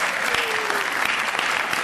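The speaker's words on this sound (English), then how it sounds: "let's give Larry Weirs a round of applause" Steady applause from an audience at a Young Entrepreneurship Club expo in Joliet, Illinois, dense clapping throughout with no pauses.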